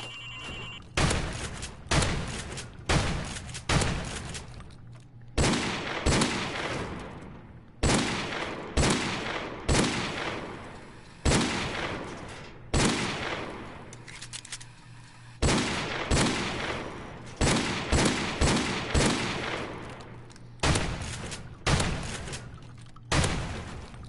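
Shotgun fire in the Modern Warfare video game: loud, close single blasts repeated in irregular clusters across the stretch, with short pauses between volleys and no talking.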